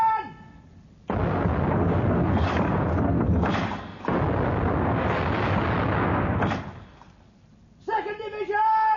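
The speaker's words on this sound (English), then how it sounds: "Open fire, 1st Division!" Naval guns opening fire as a radio drama sound effect, a long rumbling roar of cannon salvos and heavy booms lasting several seconds, ending in a brief lull before a voice returns.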